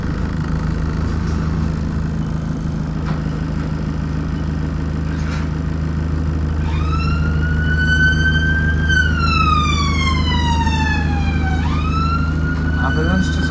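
An ambulance siren sweeps past a Wolverhampton bus stop, its wailing tone rising and then falling as it passes, loud over steady traffic rumble and idling bus engines.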